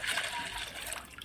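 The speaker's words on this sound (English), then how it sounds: "So I'm going to add some water to this" Water is poured into a cooking pot over an outdoor fire for a Jamaican-style Sunday dinner with coconut milk, a brief soft splashing and trickling at moderate distance.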